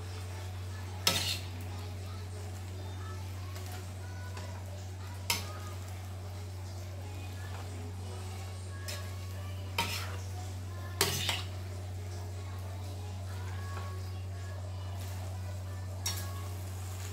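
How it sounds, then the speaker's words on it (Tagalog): A utensil clinks and scrapes against a pan at scattered moments while sotanghon glass noodles with vegetables are stirred, a few sharp knocks over a steady low hum. "Halu-haluin lang natin para malagyan ng ano, flavors yung ibang part"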